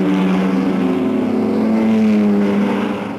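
Racing cars at the start of the 1955 Le Mans race blare with a loud, rising engine drone that swells steadily, then eases off slightly at the end, with no talk.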